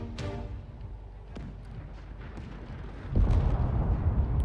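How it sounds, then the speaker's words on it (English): Missiles strike targets in a mech combat video game, sounding as a string of distant thuds and rumbling explosions, with a heavier, louder boom near the end. No one speaks. "And Winfield's still launching missiles as well."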